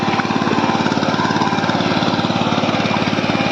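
A tractor engine runs on a farm with a steady, loud, rapid chugging pulse that stays even throughout, close by and with no voices.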